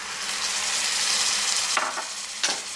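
Ground pork and chilies sizzle steadily in a hot pan for mapo tofu as sake goes in, a dense continuous frying hiss broken by two short bright bursts of stirring near the end.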